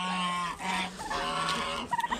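Several turkeys and other fowl honking and gobbling close by, overlapping calls in a busy farmyard chorus with short sharp bursts near the end.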